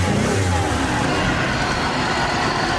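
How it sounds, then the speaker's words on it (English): A 2001 Monte Carlo with a 3.8L engine revs up in a steady, loud mid-range roar that holds without pause, heard close and alone. "So even when I try to really rev it up"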